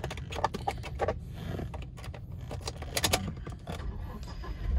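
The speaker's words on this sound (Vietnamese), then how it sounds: "đang cầm chìa khóa remote của xe" Keys jangle in a hand, a car remote key for a 2018 Toyota Fortuner diesel, giving close, repeated metallic clinks over quiet background rumble.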